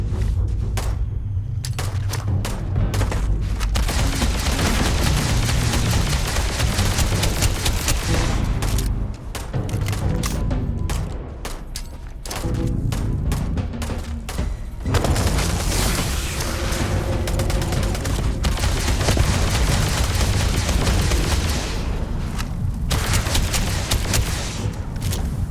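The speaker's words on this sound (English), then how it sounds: "Okay, let's play with grenades." Grenade blasts and rapid gunfire fill a Starfield firefight, a dense, loud, continuous barrage of booms and shots with only brief dips in intensity.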